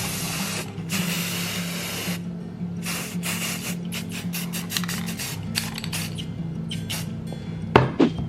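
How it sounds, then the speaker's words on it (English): Repeated hissing bursts of gold spray paint from an aerosol can onto hair clips, several long sprays then short quick spurts, close up, with a faint clatter near the end. "I'm going to just spray paint them."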